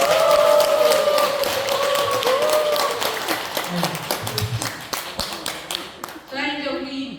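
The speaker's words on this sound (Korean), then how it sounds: "큰 박수." An audience at a Buddha's Birthday gathering breaks into clapping after a speaker's introduction, a crisp scattered patter that builds under continuing talk and thins toward the end.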